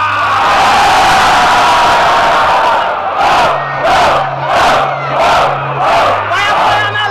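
A large crowd at a rap battle roars and shouts loudly in unison, then breaks into rhythmic pulsing chants with a repeating low beat underneath.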